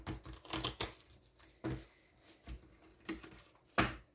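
A deck of cards is shuffled in quick, crisp riffles and taps, several short bursts spaced irregularly, close and fairly quiet, with no voices.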